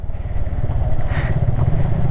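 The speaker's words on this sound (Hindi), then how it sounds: "स्पोर्ट्स बाइक की भी ऑफ रोडिंग करवा दी हमने" A sports motorcycle rides off-road on a rough mountain track, a close, loud, uneven engine chug with rattling and bumps throughout.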